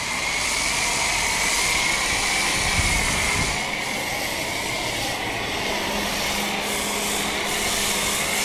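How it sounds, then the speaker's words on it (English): A foam gun sprays a continuous hissing stream of foam over a Jeep Wrangler Sahara 4xe during an exterior wash, steady and close with faint rubbing and a slight dip midway. "Second pass with the foam gun."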